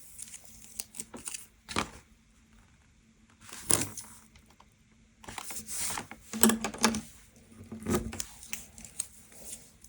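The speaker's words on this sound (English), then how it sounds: "I'm going to put my double-sided tape along the inside of the fold." Double-sided tape being pulled and pressed along the inside of a paper fold, producing intermittent crinkly tearing and rustling bursts close up.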